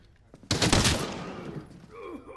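M16 rifle gunfire in Arena Breakout erupts as a sudden rapid burst of close shots, loud at first then trailing off with echoing reports.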